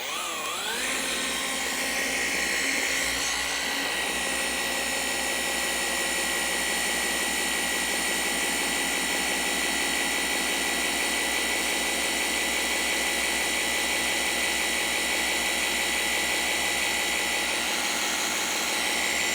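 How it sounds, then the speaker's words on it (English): An orbital polisher compounds the paint on a Lexus LX 470 during major paint correction, a loud, steady high whine that spins up at the start and runs on without a break. "Only pressure from my thumb, guiding the polisher."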